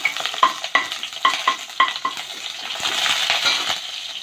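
Crushed garlic dropped into hot oil with popped mustard and fenugreek seeds for a gourd and fish curry, several sharp metallic spoon taps at first, then a rising close sizzle and stirring.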